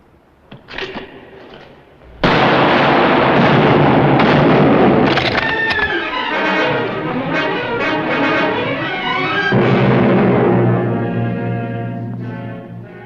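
Battle scene of heavy gunfire and explosions, a sudden loud blast followed by sustained rumbling bursts and crackling shots that swell and ebb for several seconds.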